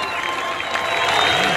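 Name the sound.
applause for a judge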